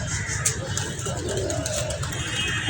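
Pigeons coo softly on a rooftop, low murmuring calls set against steady outdoor background noise.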